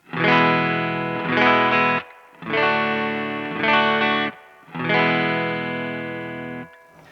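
Clean electric guitar chords on the middle pickup ring out clearly in several sustained strums, each left to decay before the next, with no distortion and no voices.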